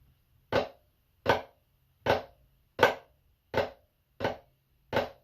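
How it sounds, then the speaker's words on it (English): Seven sharp drum flams, evenly spaced about once every 0.7 seconds, each a crisp hit of two nearly simultaneous strokes, with no talking. "it's essentially two notes being played at the same time, pretty close to one another, just a little bit delayed"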